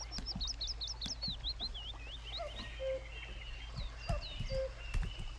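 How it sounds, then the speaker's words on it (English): Birds singing outside a house: quick chirps and whistled notes repeat in lively bursts, fairly close and clear over a steady low background hum, with no talking. "birds are outside of my house that seem to sing all the time"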